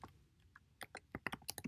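Typing on a computer keyboard, a quick run of about a dozen crisp key clicks speeding up toward the end, close and fairly quiet, with no talking.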